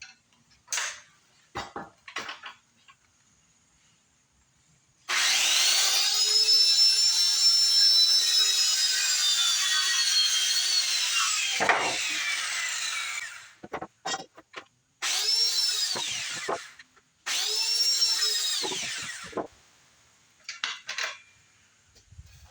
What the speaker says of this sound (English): We'll get all the studs cut, and then we'll be ready for the wall